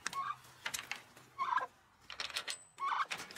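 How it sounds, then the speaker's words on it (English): Chickens in a chicken tractor on a homestead, with several short clucking and squawking calls in separate bursts, close by, alongside faint rustling. "check on my chickens."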